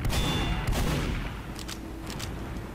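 Rapid, spammed gunfire in a video game fight comes as a dense, continuous barrage of overlapping shots, loud and steady throughout.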